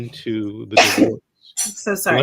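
A person sneezes once, loud and close, in the middle of a conversation about family law, with speech just before and after.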